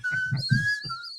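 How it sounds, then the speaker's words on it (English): Teeth whistle by a person: a thin, high whistled tone with a sliding pitch, carried over a few short breathy pulses during a hockey talk show, clear and close. "What about the teeth whistle?"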